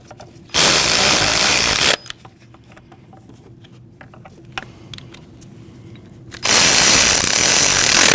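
Power ratchet or drill driving a 10mm socket on an extension to snug bolts on a 2014-2023 Jeep Cherokee during starter replacement; two loud sustained whirring bursts, one at the start and one at the end, with quiet clicks and handling between.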